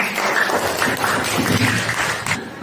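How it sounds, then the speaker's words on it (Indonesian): Students in a classroom give a lively round of applause, a dense, continuous patter of clapping at moderate loudness that ends abruptly. "Kalian beri tepuk tangan yang meriah."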